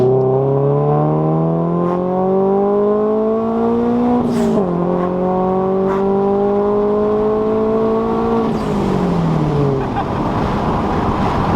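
A boosted Subaru BRZ engine on a dyno revs loudly and close up in long, rising pulls, its pitch climbing steadily, then dropping back before it revs up again.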